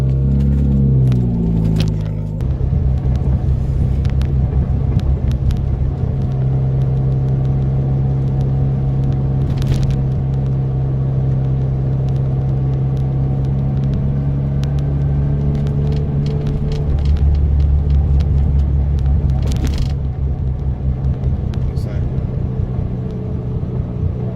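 A Mazda RX-7 engine drones loudly and steadily while driving, with a deep rumble throughout and occasional rattles and clicks.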